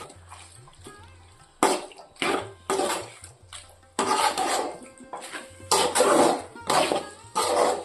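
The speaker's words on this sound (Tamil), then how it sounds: "நம்ம சேர்த்துக்கிட்ட சிக்கனை மசாலா கூட நல்லா கலந்து விட்டுருவோம்" A spoon scrapes and clatters against a bowl in short bursts while raw chicken is tossed with masala paste, the metallic knocks close and separated by brief quiet gaps.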